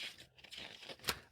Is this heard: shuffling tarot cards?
yes